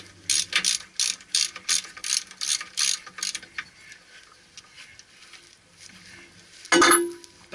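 A ratchet with a 23mm socket works the rear pinion on a Ford Ranger (B2500) during a pinion seal change. Quick bursts of sharp clicks repeat close up, then fade to scattered ticks before a single loud metallic clunk.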